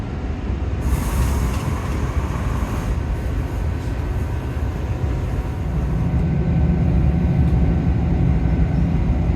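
Loud, steady rumble and roar of a train running through a tunnel near Dawlish, heard from inside the carriage, with broadband wheel and rail noise that swells slightly toward the end.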